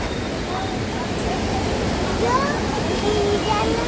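Water flows steadily out of a rock hollow in the hills of Mussoorie, a constant close rushing splash with faint voices in the background.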